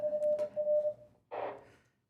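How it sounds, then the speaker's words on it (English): A radio repeater sends its Morse code identification during a talk on radio then and now at a commemorative event: a steady, clear tone with short breaks, followed by a brief burst of noisier sound, close and fairly loud. "Morse code."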